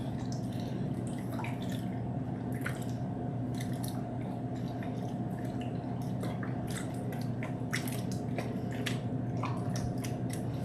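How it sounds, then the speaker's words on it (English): Water sloshing and dripping in a kitchen just after a mixer has been switched off, a steady wet churning with scattered small splashes and clicks over a constant low hum, close and fairly quiet, with no voices. "Water sloshing around."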